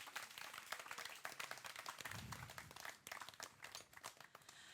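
An audience at a history talk gives a round of applause, a faint, dense patter of clapping with a brief low thump partway through, heard from some distance.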